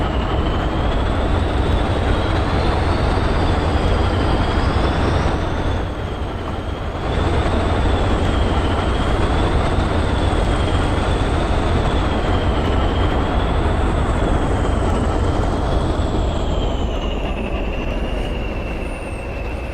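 A Class 20 diesel locomotive runs steadily on the Weardale and Teesdale line in Train Simulator, giving a loud, unbroken engine drone with a wavering high whine over it and a brief dip partway through.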